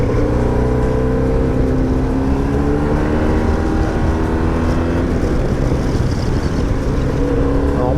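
A 1989 motorcycle is ridden with its engine droning steadily close by, the pitch rising and falling as it changes speed, under constant wind rush.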